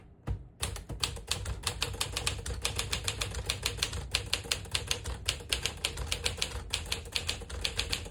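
Rapid, steady typing on a 1957 Smith-Corona Silent-Super portable typewriter, each keystroke a crisp clack in a continuous, slightly uneven rhythm, close and clear.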